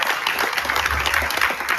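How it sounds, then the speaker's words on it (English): An audience at an OMR Margazhi celebration in Chennai applauds loudly and evenly, a dense wash of many clapping hands heard near and continuous with no pauses. "So applause for her. Round of applause for her."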